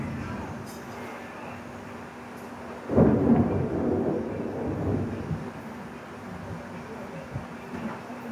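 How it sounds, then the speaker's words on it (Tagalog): A loud thunder roll bursts in mid-rainstorm, rumbling heavily for a couple of seconds before fading into a low steady rain hiss. "Ang lakas ng kulog"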